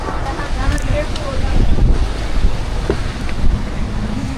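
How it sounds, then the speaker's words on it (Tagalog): Heavy rain suddenly pours down outdoors in Tagaytay, a steady loud wash of noise with wind buffeting the microphone, continuous and close throughout. "Bigla lumakas yung ulan."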